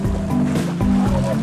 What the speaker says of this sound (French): Équipés de moteurs incertains et de barques instables,